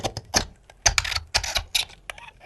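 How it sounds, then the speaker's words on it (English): Razor blade scratching the stainless steel frame of an iPhone 11 Pro Max, a burst of quick, sharp, clicking scrapes in irregular rapid strokes, close and fairly loud with no talk. "The sound you hear though is stainless steel"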